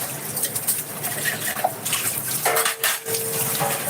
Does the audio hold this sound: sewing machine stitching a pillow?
no